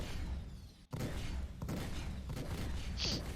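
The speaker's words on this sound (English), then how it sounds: "you can see how quickly these neutron cannons do damage" Neutron cannons firing from a Mustang Alpha starter ship in Star Citizen combat, a dense continuous roar of rapid shots with a brief cutoff near the start, then sustained loud fire with sharper bursts.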